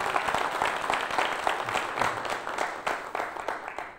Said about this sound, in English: You could applaud those folks if you want.